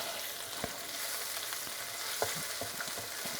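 Onion cooking in a pan for a creamy sausage pasta sauce gives a steady, moderate sizzle with a few soft stirring clicks and scrapes.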